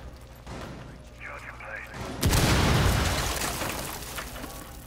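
Rainbow Six Siege gunfire rings out as a sharp burst followed by a loud, booming rumble that slowly decays, with players talking over the game sounds.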